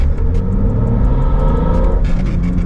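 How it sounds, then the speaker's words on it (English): A car fitted with a Mitsubishi Evo engine swap and a quiet exhaust rumbles loudly up close, its deep engine drone and intake induction noise steady, then swelling slightly as it revs. "I'm actually really stoked that it has such a quiet exhaust because I can actually hear the induction noise."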